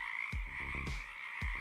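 A frog croaks in short, low, rasping pulses, three or four close calls over a steady background trill.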